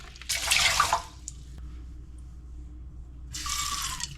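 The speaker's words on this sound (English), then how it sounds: "After the rice has gone through the final rinse, you want to add 1 cup of water" Water is poured from a cup onto rinsed rice in a pot before cooking in a rice cooker, two short splashing bursts separated by a quiet pause, close and clear with no talking.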